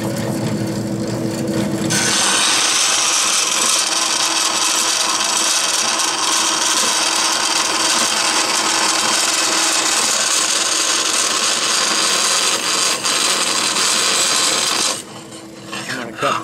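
A continuous buzzing, rasping vertical bandsaw cuts steadily through wood in a machine shop for about thirteen seconds, loud and close, then stops, leaving a quieter workshop hum.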